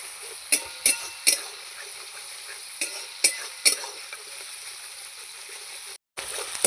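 Spiced masala being stirred and fried in a pan for an egg curry, a steady soft sizzle broken by several sharp scraping taps of a spatula, close up with no talking.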